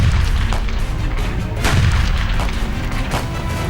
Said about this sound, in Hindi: आतंकियों के पनाहगाह से गोलियां सीधे फौज पर बरसने लगी।